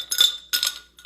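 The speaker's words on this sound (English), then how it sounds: "a few ice cubes" A few ice cubes dropped into a tall glass, giving two bright clinking bursts close up, then a lighter final tap.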